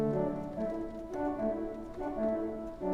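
Kotzschmar pipe organ sounding its French horn stop, a sustained, mellow chord with rich stacked harmonics that shifts gently between notes, steady and moderately loud with no talking.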